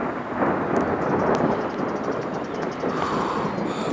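Steady rain hisses down while low thunder rumbles underneath, continuous and fairly close, on the way to Montserrat mountain, with no one speaking.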